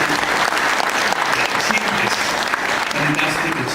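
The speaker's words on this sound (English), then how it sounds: "I want to give a big applause together." Dense audience applause from a large crowd at a talk on social business in Nepal, a steady wash of clapping that fills the whole stretch without pause, with some cheering voices mixed in.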